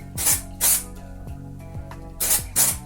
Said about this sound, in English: spray dry shampoo